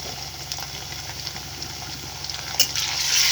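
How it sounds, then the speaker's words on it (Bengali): Ginger-garlic paste with onion frying in oil in a pan while cooking fried beef liver, a steady soft sizzle with small crackles, brightening and louder toward the end. "তেলের সাথে ভেজে নিচ্ছি, যাতে করে কাঁচা গন্ধটা না থাকে"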